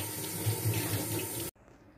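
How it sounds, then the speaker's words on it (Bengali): Tap water runs and splashes steadily as ambarella fruits from Barisal are washed in a sink, then the flow stops abruptly, leaving quiet room tone. "আমি আমরাগুলো এই যে ভালোভাবে ধুয়ে নিব"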